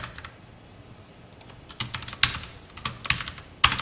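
Computer keyboard keys pressed while coding a Java text board program, a few sparse clicks then several sharper, louder presses toward the end, close up with no talk.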